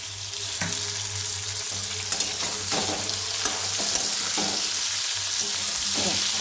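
Tinda frying with a bay leaf in a pan: a steady, close sizzle runs throughout, with scattered clinks and scrapes of stirring.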